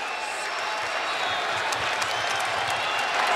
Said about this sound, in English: Crowd getting involved now.